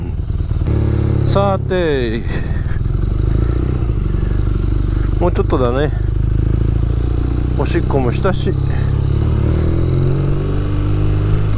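An air-cooled BMW R nineT boxer motorcycle with a stock Akrapovič exhaust gives a loud, close, steady engine drone with several rising revs, while a rider speaks over it now and then.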